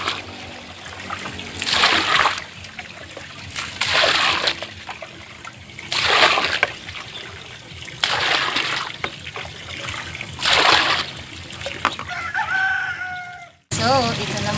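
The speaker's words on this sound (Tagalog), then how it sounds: "And punuin natin siya ng tubig mga kadang, para marami tayong budget sa ating pagliligo." Water is poured and scooped into a bath basin prepared for a pregnant woman's bath, with splashing pours returning about every two seconds and a rooster crowing in the background.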